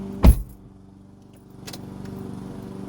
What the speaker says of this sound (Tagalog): you will hear that click.